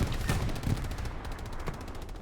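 Machine gun fire in the Hell Let Loose game during a competitive match at Sainte-Mère-Église, rapid overlapping bursts of shots at fairly close range that run nearly continuously, with no speech.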